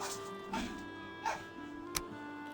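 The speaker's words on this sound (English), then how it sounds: "Oh my god, these dogs." Dogs in the Valheim video game give several short barks and yips at a moderate level, spread across the clip over a steady background of game music.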